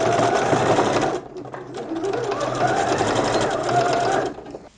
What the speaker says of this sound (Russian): Теперь нам потребуется проложить строчку в продолжении разреза, то есть в продолжении края разреза.